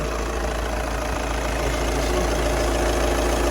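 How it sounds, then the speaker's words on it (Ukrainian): A 2012 VW Passat B7 Alltrack 2.0 TDI diesel engine idles steadily, a continuous low rumble with an even mechanical clatter, close by and unchanging throughout. "Двигун працює рівно, добре заводиться"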